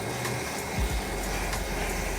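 A vacuum run over a lawn makes a steady motor hum that roars continuously close by, with a low rumble and faint rustling beneath it.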